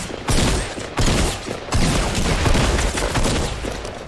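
Gunfire rings out in the battle game Fortnite. Dense, loud bursts of shooting and impacts fill the whole stretch, with fresh volleys roughly every second and no talk.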